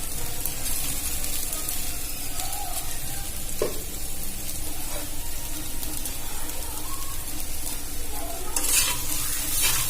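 Fried potatoes being stirred into chira pulao (flattened rice pilaf) in a pan, with steady sizzling and frying hiss and occasional scraping of the spatula, no voices.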